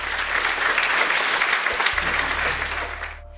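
Supportive crowd clapping at a pro-Palestine expo, a dense, steady wash of applause that holds for about three seconds before trailing off near the end.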